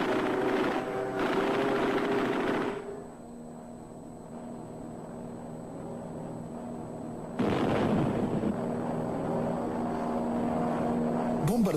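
PV-2 bombers over Guinea-Bissau during wartime: a steady propeller-engine drone with deep rumbling, swelling louder at the start and again near the end, heard from a distance with no voices.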